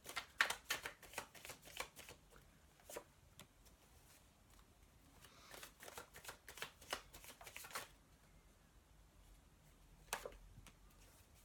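Tarot love cards are shuffled softly close by. Quick riffling flutters come in bursts with short pauses between them, and the sound is quiet and intimate in an otherwise still room.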